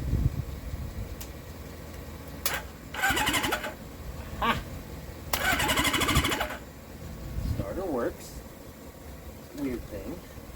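A Suzuki GS750 motorcycle engine is cranked in two separate bursts of loud, ragged starter whirring, with quieter mechanical clicks and brief talk between them.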